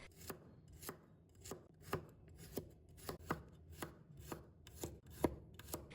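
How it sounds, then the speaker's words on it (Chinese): A knife slices a handful of garlic on a cutting board, about a dozen crisp, evenly spaced taps in a steady rhythm, close and clear with no talking. "再准备一把大蒜，把它切成片"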